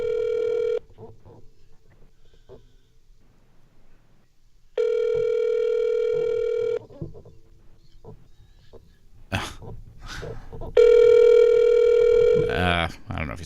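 A telephone dial tone plays over a speakerphone in three steady bursts with gaps between them, a low murmur and scattered noises in the gaps and a brief clatter near the end.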